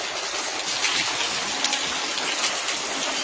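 Rainwater pours down in a continuous gushing rush, loud and close, like water streaming off a roof, with no voices.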